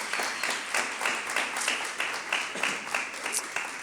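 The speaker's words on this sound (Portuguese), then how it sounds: "Pode aplaudir o nome do Senhor mais forte" A church congregation claps in rhythm, steady bursts of hand claps repeating about twice a second, moderately loud and without talk over them.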